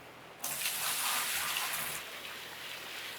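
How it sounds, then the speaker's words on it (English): In Gold Rush: The Game, water gushes out to rinse dirt away. The rush is close and fairly loud, running about a second and a half before it eases to a lighter flow. "How much water does it take to rinse all the dirt down?"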